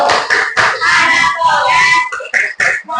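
Children chant a rhythmic clapping rhyme in an Islamic religious lesson, with voices and hand claps mixed in quick, steady bursts that pause briefly near the end.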